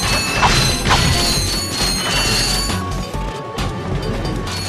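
Wooden crates smash in the Ratchet and Clank video game on the Metropolis level, a dense run of loud crashes and cracking breaks with metallic mechanical clatter and bolt-pickup jingles layered over game music.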